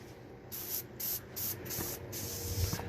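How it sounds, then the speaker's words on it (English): Short bursts of aerosol brake cleaner with degreaser hiss onto a Honda H22 manual transmission in a basement, several separate close sprays in a rough rhythm, then one longer spray. "I just want to hit it with a little bit of brake clean with"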